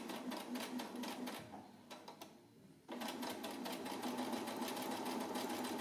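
A sewing machine hems fabric with a wide hem foot, running in a steady fast whirring stitch, pausing briefly for a second or so of slower stitches, then resuming at full speed; fairly quiet, without talk.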